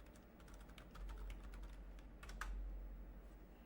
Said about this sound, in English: I was trying to figure out what all that clapping was, but Oh, I'm sorry, I was typing.